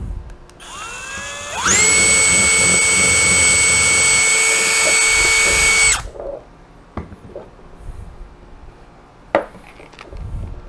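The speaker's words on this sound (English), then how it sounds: "So I'm going to drill" A power drill spins up with a rising whine, drilling a pilot hole while installing a trailer brake controller on a Jeep Gladiator, runs steadily for about four seconds, then stops, followed by a few faint knocks and taps.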